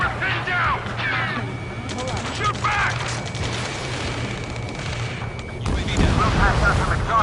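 Gunfire and artillery-like booms from the jet combat game Ace Combat sound under radio chatter from in-game voices, with a louder burst near the end.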